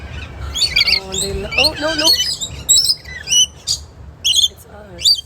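Birds chirp, tweet and squawk in bursts of high calls during a bird feeding outing, the calls fairly close and loud, mixed with a person talking briefly and low background rumble.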